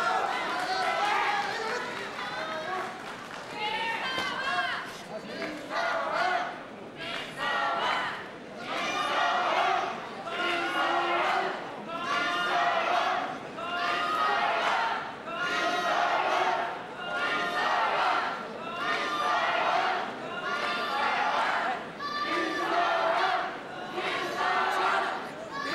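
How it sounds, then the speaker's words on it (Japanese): A boxing crowd at a minimumweight eight-round bout chants Misawa's name in steady rhythmic waves. Each chant swells and falls roughly every second, loud and massed, with arena chatter underneath. "三沢コールの大声援です。"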